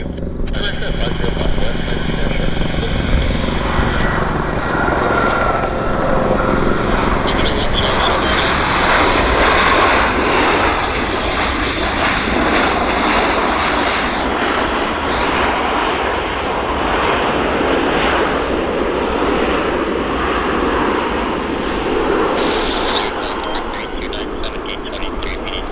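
A KLM Boeing 777 jet airliner arriving at Vancouver airport produces a loud, sustained engine roar with wind rush that swells and holds throughout, with a voice talking over it.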